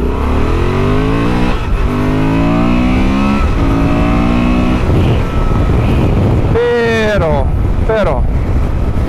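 Honda Transalp motorcycle engine pulling hard through the gears, with rising harmonic sweeps that climb and drop at each shift before a final high-revving surge, loud and close with steady wind noise.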